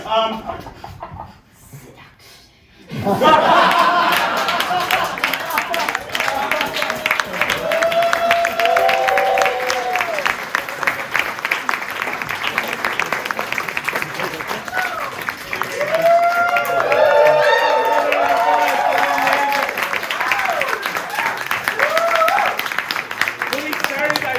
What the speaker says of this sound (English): get another big round of applause